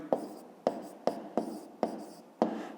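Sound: writing on paper

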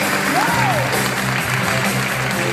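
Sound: audience applause

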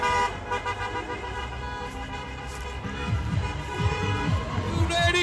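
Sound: truck train horns honking

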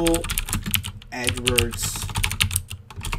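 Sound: typing on a computer keyboard

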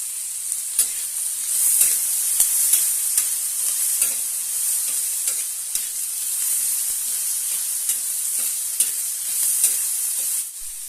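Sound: garlic cloves frying in a pan

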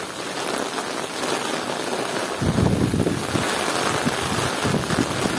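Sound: heavy rain downpour

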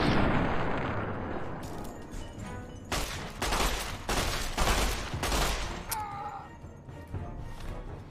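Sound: Chinese pistol gunfire in the video game Fallout: Tale of Two Wastelands

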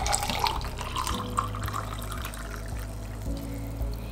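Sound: pouring 200 ml of warm water into a cup

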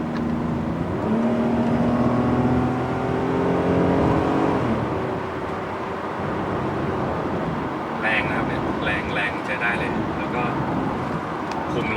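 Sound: BMW E39 523i car being driven

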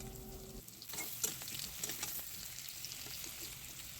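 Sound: potatoes with turmeric frying in a pan

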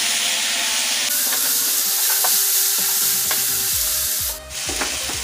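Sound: frying masala with poi saag greens

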